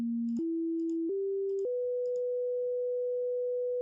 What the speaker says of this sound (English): as I click different notes on the piano, each note has a assigned MIDI number to it